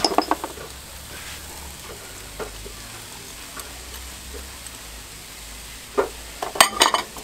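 Chopped peppers and onions frying in a pan give a soft, steady sizzle throughout, with a few light clicks and a cluster of utensil clatters near the end, no voices.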